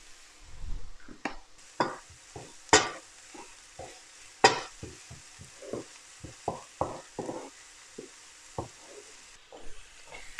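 A fish samosa filling with sugar and garlic cooks in a pan, soft sizzling under a series of irregular scraping stirs and clacks, close and fairly quiet.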